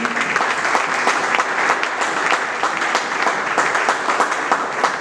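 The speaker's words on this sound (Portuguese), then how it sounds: "Você pode dar uma linda salva de palmas para esse menino" A church audience at an international conference and crusade in Angola bursts into dense, continuous applause, many hands clapping loudly and evenly for several seconds with no talk over it.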